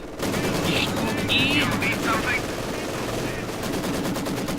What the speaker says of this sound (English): 2 light machine gun equipped grenadiers just tearing through the conscripts out in the open again